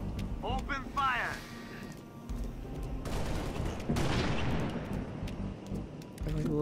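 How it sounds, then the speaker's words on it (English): Gunfire from a Halo Reach firefight, with bursts of shots and blasts layered over game music and radio chatter, loud and dense throughout, with voices talking over it. "Taking enemy fire. Open fire."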